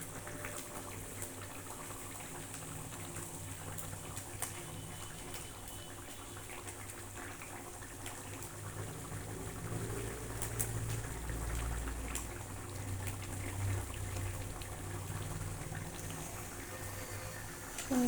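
A pot of chicken curry with whole tomatoes bubbles on a Sunday kitchen stove, a faint, continuous simmering hiss and gurgle that carries on steadily with no talking.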